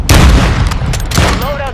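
Pistol fire in Call of Duty: Modern Warfare II, with two sharp, close gunshots about a second apart, the first heavier, over steady game ambience.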